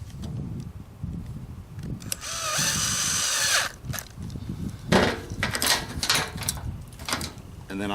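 A cordless drill drives small screws on a generator modification, with a couple of short whirring bursts in a workshop setting, and someone talks in between.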